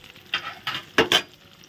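Paneer pieces being fried in a pan, heard as a few short bursts of sizzling and stirring with utensil scrapes against the pan, close and fairly quiet with no talk.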